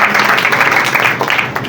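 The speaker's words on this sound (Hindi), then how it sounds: "खुदा के कलाम के लिए, जोरदार तालियां" A church congregation applauds loudly and continuously in a brief burst of dense clapping at close range.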